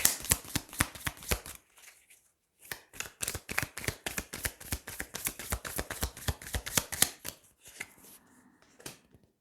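A deck of tarot cards shuffled close up, with rapid riffling flutters in two long bursts separated by a short pause, then a few softer card slides and taps.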